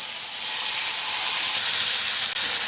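Loud, steady sizzling of chicken shawarma frying in hot oil in a pan, a continuous bright hiss with no talking.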